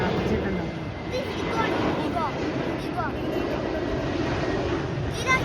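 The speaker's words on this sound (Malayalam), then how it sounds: "നല്ല രസമുണ്ട് കേട്ടോ ഫ്ലൈറ്റ് ലാൻഡ് ചെയ്യുന്നത് കാണാനായിട്ട്" A steady, loud roar of a landing jet aircraft passing close overhead fills the whole clip, broad and continuous, with voices talking faintly over it.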